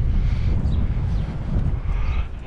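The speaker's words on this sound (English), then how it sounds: "It's windy." Steady wind buffets the microphone with a low rumbling roar throughout, loud and continuous with no speech.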